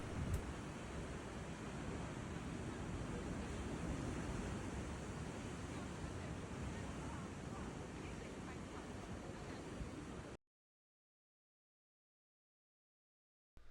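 Ocean surf at Bondi Beach, Sydney, roars as a steady, broadband wash of breaking waves with light wind noise, continuous for about ten seconds before cutting out to near silence.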